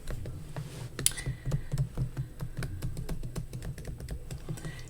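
Quick, close clicking keystrokes on a computer keyboard as a login is entered, a steady run of light taps with brief pauses, heard alone.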